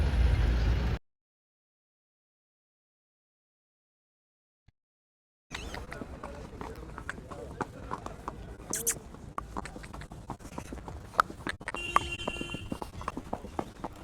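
Faint, quick patter of horse hooves clip-clopping on the ground after a silent gap at the Muktsar Maghi fair, with voices talking intermittently.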